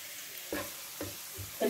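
Onions fry on low heat in a pan, giving a quiet sizzle with three brief, close scrapes as they are stirred.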